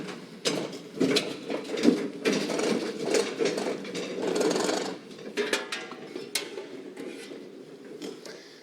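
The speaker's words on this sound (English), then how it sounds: "I'm going to pull this machine right out of the booth." A welding machine is dragged out of a weld booth with a run of close rattling, scraping and clunking bursts that rise and fall irregularly before trailing off into lighter knocks.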